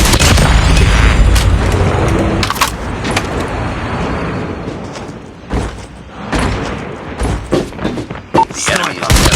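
Sniper rifle shots in a Call of Duty Mobile clan-war match ring out as a few sharp booming cracks over dense, busy game sound and ambient battle noise, with a brief voice callout.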